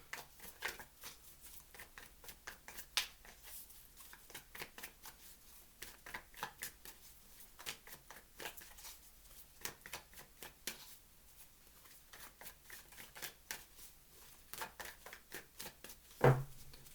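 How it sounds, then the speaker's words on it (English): Tarot cards being shuffled by hand, a steady run of soft papery riffles and flutters that stays quiet and close throughout, ending with a sharper tap of the deck. "Two more shuffles, please."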